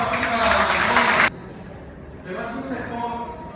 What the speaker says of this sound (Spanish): Yo les pido un aplauso aquí para